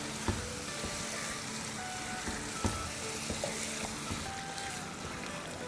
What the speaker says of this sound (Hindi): 2-3 मिनट अच्छे से भून लेंगे